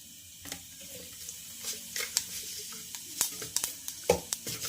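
Cumin seeds sizzling in a spoonful of hot oil in a pan, a soft steady crackle with scattered sharper pops and light clinks, close and quiet, with no talking.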